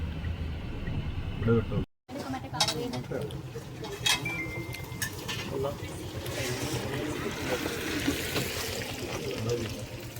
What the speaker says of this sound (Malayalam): ഇത് രാവിലെ കാണാൻ രസമല്ലേ വെള്ളച്ചാട്ടം